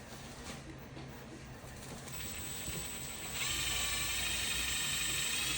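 Power drill boring a hole while fitting a generic swing arm, a steady whirring drone that rises in pitch and grows louder partway through, running continuously without talk.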